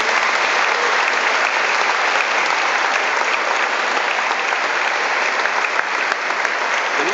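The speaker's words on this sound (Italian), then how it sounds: "Quindi vi chiedo un applauso per tutti i familiari." Sustained, dense applause from a congregation fills a parish church in Boccadasse, loud and even throughout with no break or speech over it.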